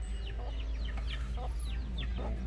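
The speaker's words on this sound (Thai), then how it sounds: "ดูไก่ก็มาเล่นด้วยครับ" Chickens cluck repeatedly around a house yard where a young elephant wanders, short clucks at moderate distance over a steady low rumbling background.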